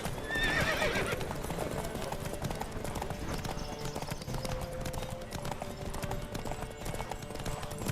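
Horses gallop in a race in The Witcher 3, a dense steady thunder of hoofbeats with a whinny and a rider's shout at the start, continuing loud throughout.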